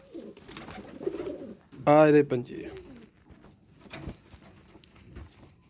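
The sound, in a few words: pigeons cooing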